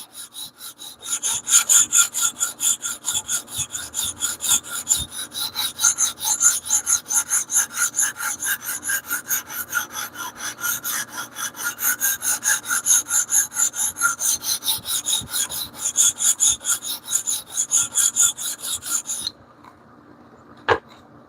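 A knife being sharpened on a TSProf Kadet Pro guided sharpener, a steady close rasping scrape of stone on steel repeated in rapid back-and-forth strokes for nearly twenty seconds, then stopping abruptly with no talking.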